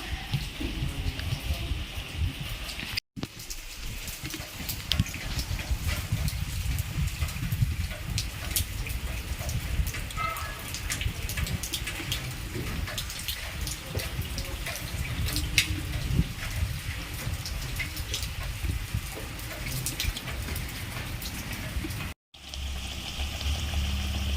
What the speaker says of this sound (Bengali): দেখো বাইরে কত বৃষ্টি পড়ছে দেখো